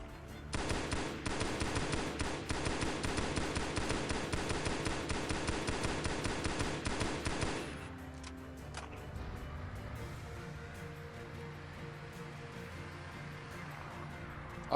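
Rapid automatic gunfire from the video game Halo SPV3 rattles loudly and continuously for about eight seconds, then gives way to quieter scattered battle sounds and distant pops.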